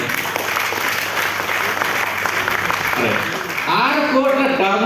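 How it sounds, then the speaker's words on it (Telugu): A training seminar audience breaks into sustained applause, a dense, steady clatter of many hands, before a voice starts speaking over its tail. "క్లాప్ ఇవ్వాలా వద్దా మరి?"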